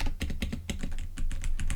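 Rapid clacking keystrokes on a mechanical keyboard, recorded close from about eight inches away, form a busy, irregular run of sharp taps with no voices.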